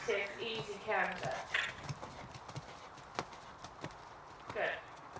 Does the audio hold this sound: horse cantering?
yes